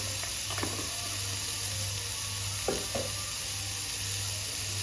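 Salt and turmeric being stirred in a hot pan for masala bread upma, with a steady hiss of frying and two brief scraping stir strokes, no voices.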